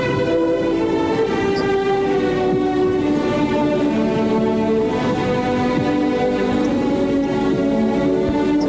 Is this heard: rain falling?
no